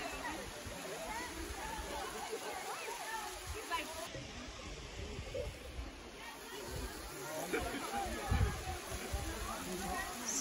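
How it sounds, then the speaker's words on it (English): Sitting Bull Falls, the first waterfall on the trail, roars in a continuous broadband rush beneath people talking and background crowd chatter at the pools. "Guys, there it is, the first waterfall."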